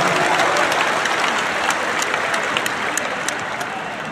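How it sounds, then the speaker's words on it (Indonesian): A large crowd at an Indonesian presidential campaign rally claps loudly and steadily, a dense wash of applause that fades slightly toward the end. "Tepuk tangan untuk semua yang memilih hadir di sini."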